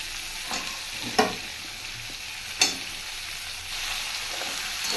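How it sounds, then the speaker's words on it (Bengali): Ridge gourd frying and being stirred in a spiced masala with oil for a fish curry, a steady sizzle underneath two sharp scraping stirs, close and alone. "এখন আমি ঝিঙেটা দিয়ে দিলাম"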